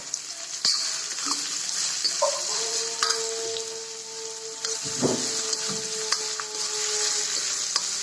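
Onion sizzles in hot oil with cumin, mustard seeds, curry leaves and chilli for poha, a steady close frying hiss with occasional stirring scrapes and clinks against the pan.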